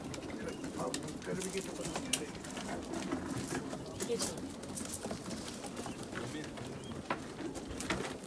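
Pigeons coo steadily amid a noisy, bustling background with faint voices and a constant wash of sound.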